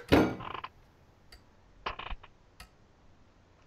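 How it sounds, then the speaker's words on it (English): A squeaky chair creaks in a few short, separate bursts: one louder squeal at the start, then fainter intermittent creaks, with no talk over them. "I'm gonna use the other side of my chair because it's really squeaky."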